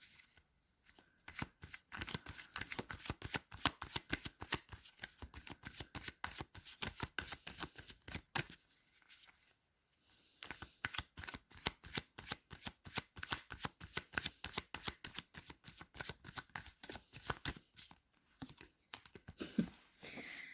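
Tarot cards being shuffled by hand, a dense run of crisp riffling and flicking bursts repeating steadily for about twenty seconds with brief pauses, close and fairly quiet, with no talking.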